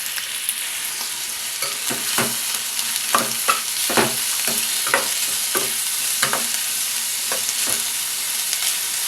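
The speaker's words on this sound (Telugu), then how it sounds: "ఉల్లిపాయ ముక్కలు, పచ్చిమిర్చి ముక్కలు వేసి వేయించుకుంటాం." Chopped onion and green chili pieces fry in hot oil with a dense, continuous sizzle close by, broken by repeated scraping stirs of a spoon through the pan at an uneven rhythm.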